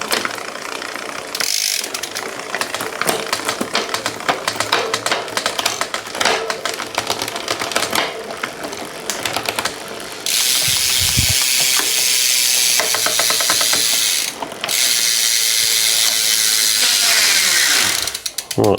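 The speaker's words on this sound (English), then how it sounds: "What we need to do first though is just press this gear lever. I'm just pressing this all the way across now without pedalling." Shimano GRX gear shift lever on a gravel bike being pressed across without pedalling, giving a close run of quick mechanical ratcheting clicks, dense and steady with a louder, brighter stretch in the second half.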